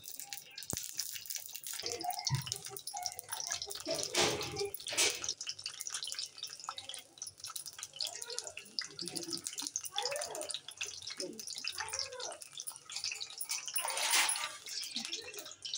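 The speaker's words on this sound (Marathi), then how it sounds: "आपण आता तेल ओतत आहोत आणि त्यावर झाकण ठेवून बॉईल करून घेऊया।" Oil is poured into a pan of brinjals with chillies and garlic, a continuous close splashing and trickling of liquid with scattered drips, running steadily throughout.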